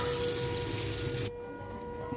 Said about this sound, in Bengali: গরম তেলে আমরা পুরটা দিয়ে দেব।